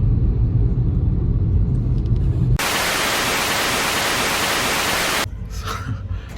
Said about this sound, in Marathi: आता परत मी वडगावच्या ट्रॅफिकमध्ये फसलेलो आहे